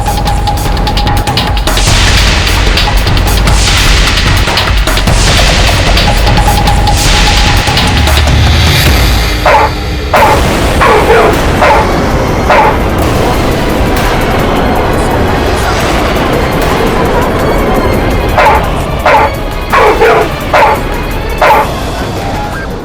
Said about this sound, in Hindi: अरे जज साहब, मुझे कुत्तों से डर लगता है।